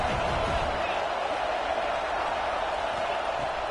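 Large football stadium crowd at an Ohio State versus Florida game, a dense, steady roar of many voices filling the whole stretch.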